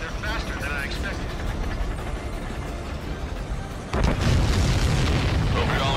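A supply ship explodes in the flight combat game Ace Combat 7, a sudden loud boom that bursts out partway through and rumbles on over a steady roar of engine and background noise.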